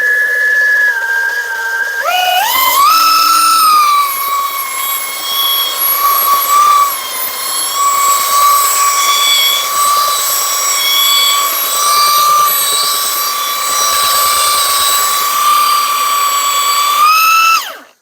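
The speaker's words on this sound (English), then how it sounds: "I'm not putting any pressure on it, just the weight of the sander." A cordless belt sander, either a Milwaukee M18 or a Kobalt, runs loudly and continuously on old split deck boards. It spins up with a rising whine, holds a steady high-pitched drone and then winds down at the end.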